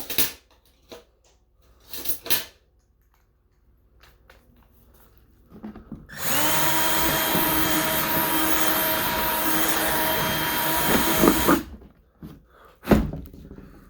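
A power drill whirs steadily for about six seconds, boring through a plastic bucket with a rough, grinding edge, with brief handling clatter before and after.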